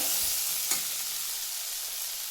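Ripe tomatoes sauté in a hot pan for a chutney, giving a steady, close sizzle with a brief stir around the middle and no talking.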